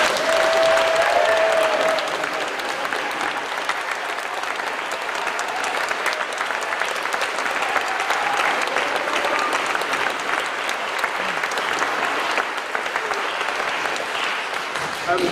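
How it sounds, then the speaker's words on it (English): Conference audience applauding after a speaker's introduction, steady dense clapping from a sizable crowd that holds at an even level for the whole stretch with no talk over it. "I think we should now clap"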